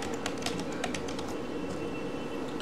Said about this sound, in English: Title I am typing here